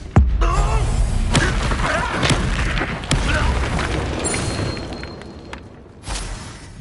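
Confringo blasting spell going off in a Harry Potter video game: a loud booming blast at the start followed by crackling debris and a few more thuds, with game noise continuing throughout.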